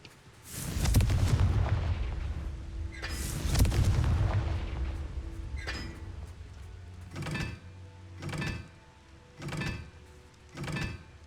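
Fire spell blasts from the Confringo charm in Hogwarts Legacy, two heavy rumbling explosions early on followed by a run of sharper, shorter bursts spaced about a second apart, loud and close with no talking over them.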